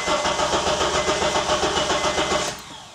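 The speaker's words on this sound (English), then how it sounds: "So we'll attempt to start the car." A car engine with a misfire cranks and runs rough, a loud continuous pulsing drone with an uneven beat that cuts off near the end, with no voices.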